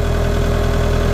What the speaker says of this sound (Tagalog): ito po yung ating EX100 Isuzu engine po ito